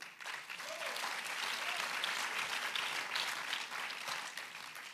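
A festival audience applauds a speaker in a dense, sustained burst of clapping that holds steady throughout and fades slightly at the end.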